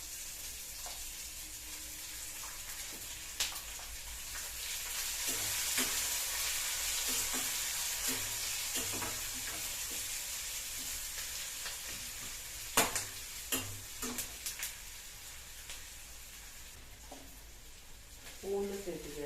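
Onions added to hot oil for a Tamil manathakkali sundakka vathal kuzhambu crackle and sizzle steadily in a pan, with occasional stirring clinks and a sharper burst midway, mostly beneath a voice speaking.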